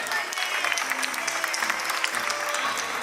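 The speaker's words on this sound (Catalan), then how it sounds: "Al nostre Salvador, per favor, un fort aplaudiment." A crowd at a modernist-fair community dinner and costume contest in Carcaixent applauds, with steady, dense clapping filling the whole stretch at a moderate distance.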